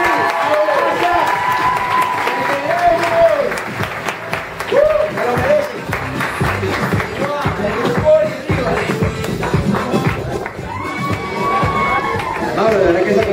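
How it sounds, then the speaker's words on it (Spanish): Applause and cheering from a university audience, with busy crowd noise, excited shouts and overlapping voices running throughout at close, loud level. "Por favor, denme un aplauso a Justa."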